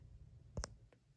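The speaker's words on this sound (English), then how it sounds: "It is a snap closure on both sides of the bag" The snap closure on a Kate Spade Aubrey handbag clicks shut: two quick, sharp close clicks in rapid succession, then a fainter third click, over a quiet low background.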